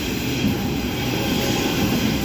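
A Leppington-service passenger train, a B set, pulls into Central station with a steady, loud, close rumble of wheels and rail noise throughout and no talking.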